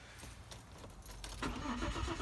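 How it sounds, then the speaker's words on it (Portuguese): A car engine in freezing snowy cold, cranking briefly and then catching, settling into a louder steady running note close by, with no talking. "Olha o barulho do motor."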